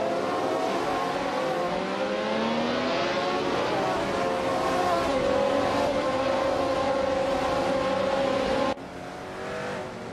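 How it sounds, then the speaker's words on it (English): A Brabham BT45 racing car engine in a video game race screams at high revs, its pitch rising and holding in a loud, steady whine before dropping abruptly near the end. "Video King 24 is in 7th place driving a Brabham BT45."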